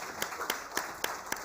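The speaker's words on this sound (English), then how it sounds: "More claps, please." An audience claps in an even rhythm at an award ceremony: about five crisp, evenly spaced claps over a low hall murmur.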